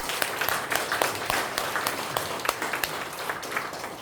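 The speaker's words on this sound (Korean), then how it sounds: "우리 박수 한번 드립니다" At a presentation event, a seated audience gives a steady round of applause, with brisk, even clapping carrying on at a moderate level throughout without letting up.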